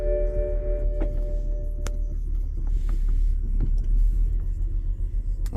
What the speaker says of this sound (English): so all I'm gonna do is start the car